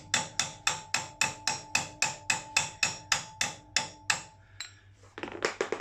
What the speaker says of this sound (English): I'm going to tap that bolt so it's flush with the actual fork itself.